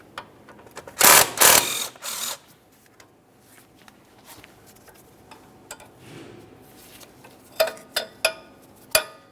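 A 12mm ratchet on a Subaru Outback brake hose mounting bolt gives a loud burst of rapid clicking, then falls quiet before several sharper, spaced clicks and taps come near the end.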